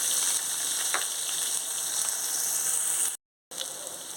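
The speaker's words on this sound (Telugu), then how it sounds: "ఆవాలు ఎండుమిర్చి కరివేపాకు వేసుకుంటున్నానండి" Mustard seeds, dried red chillies and curry leaves crackle in hot oil as a tempering for a ponnaganti greens fry with coconut; a steady, close, bright sizzling hiss runs throughout, cutting out briefly near the end.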